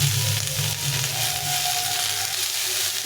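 Pointed gourd (potol) and large potato pieces fry in hot oil in a pan, giving a steady, close, fairly loud sizzle that holds evenly throughout with no talking.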